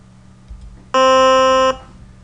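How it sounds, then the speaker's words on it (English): Simulated flexible piano string struck at C4, giving a single steady synthetic tone with evenly spaced overtones that holds for under a second and stops abruptly, over a faint low hum. "That's the sound of the flexible string."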